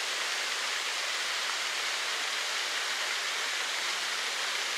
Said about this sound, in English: The relaxing effect of lightly splashing water in a green forest is well understood.